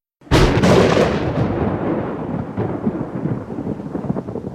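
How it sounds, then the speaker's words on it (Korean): A loud, close thunderclap cracks open and rolls into a long rumbling tail, with heavy rain pounding steadily underneath. "장대비가 지붕을 두들겨 방까지 떨리게 했고 골목에는 금방 강이 생겼다가 이내 사라졌습니다"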